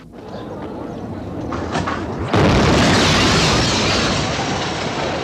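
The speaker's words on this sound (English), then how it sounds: "The explosions hit all parts of the city." A rumbling background suddenly gives way to the sharp boom of a bomb exploding in a city centre in 1972, followed by a sustained roaring wash of noise that slowly fades.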